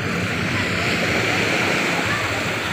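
Steady broadband wash of sea waves at a beach in Tanza, Cavite, a continuous surf roar with no clear breaks, loud and close, with a voice faintly mixed in.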